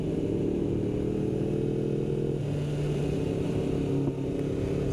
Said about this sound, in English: You can downshift at any speed, and all you hear is the exhaust note